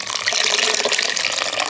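Chickpea greens being washed in water in a village kitchen, a steady close splashing and rushing of water throughout, fairly loud and continuous with no talk.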